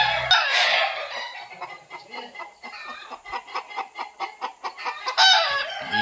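Chickens cluck in a quick, rhythmic series of short calls up close, starting with a louder burst of squawking and ending with another noisy flurry, with no talking.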